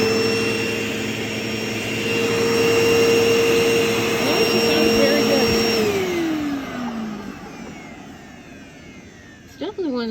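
A Hoover Deluxe Elite Rewind upright vacuum cleaner in worn condition runs with a loud steady motor whine, then powers down with a falling pitch and fades out.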